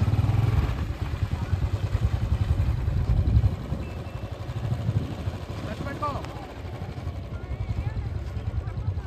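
A scooter engine runs in neutral with a close, rough, pulsing drone, while people talk over it the whole time.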